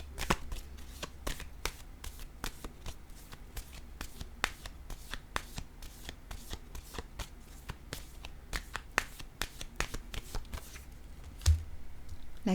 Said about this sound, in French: Je vais déposer une carte encore une fois ici.